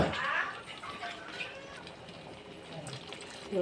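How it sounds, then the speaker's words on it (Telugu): Water is poured into a pot of salted mint mixture, a splashing, gurgling stream up close that gradually settles into a quieter trickle. "దీంట్లోనే వాటర్ వేస్తాను."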